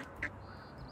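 A brief, single duck quack from the video game Little Kitty Big City, set over steady game background ambience.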